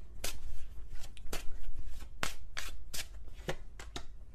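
Tarot cards are shuffled by hand in a run of sharp riffling bursts, close and fairly quiet, with short pauses between them and no talking.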